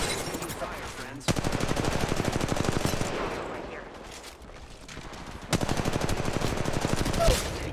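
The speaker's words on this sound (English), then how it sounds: "Need to recharge my shields. Taking fire, friends." Gunfire in Apex Legends Mobile comes as two long bursts of rapid automatic shots, loud and close with a fast, even rhythm, and a short quieter gap between them.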